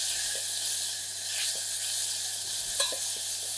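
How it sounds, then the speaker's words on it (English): Spice paste made with lemongrass and honey sautéing in a pan for a sea bream stir fry, giving a steady close sizzle and hiss with faint stirring scrapes and no voices. "We're just gonna saute that off."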